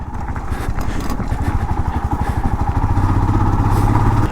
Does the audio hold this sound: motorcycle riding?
yes